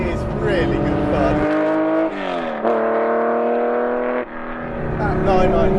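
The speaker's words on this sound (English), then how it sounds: "That 993 motor just sounds so good. Got custom headers and a 997 back box." A Porsche 964 fitted with a 993 engine, custom headers and a 997 rear silencer drives past, its loud engine note rising and falling in pitch through a couple of gear changes, with voices talking over it.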